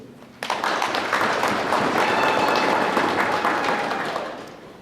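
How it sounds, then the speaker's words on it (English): An audience bursts into applause, many hands clapping in a dense, steady patter that swells and then fades toward the end. "Clap for the leadership."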